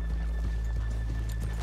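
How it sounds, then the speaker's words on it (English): Horses in Red Dead Redemption 2 clip-clop steadily on a town street while one neighs, the hoofbeats close and continuous over a low rumbling background. "let's leave the horses here off the main drag"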